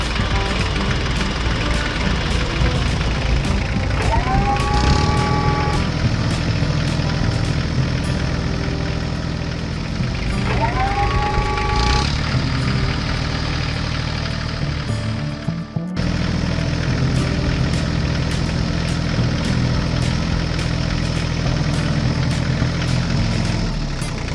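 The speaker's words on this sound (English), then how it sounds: "The engine held power, and the wheels rolled steadily on the slippery surfaces." Tractor engine running on a steep, slippery farm road during road construction work, with a steady loud mechanical drone throughout and two brief rising whines partway through.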